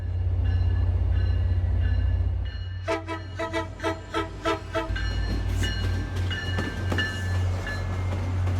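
New Haven FL9 locomotive rolling on rails, a steady low rumble under a strong horn blast of stacked chords lasting about two seconds, with continuous wheel and engine noise throughout.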